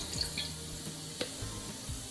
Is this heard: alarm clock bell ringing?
no